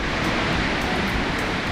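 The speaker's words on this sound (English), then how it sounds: "look at the waterfall behind us" A waterfall at Montriond, near a frozen lake in winter, rushes in a steady, dense roar of broadband water noise, close and continuous throughout.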